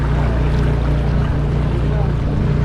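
A boat ride on open water near Varkala with a steady, loud low engine drone and water rush, continuous and close throughout.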